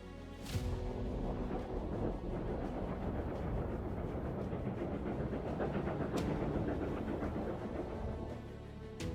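A train creeps at about 18 mph along a dangerous cliff-edge ledge railway, giving a steady, fairly loud rumble with rhythmic wheel clatter and no voices.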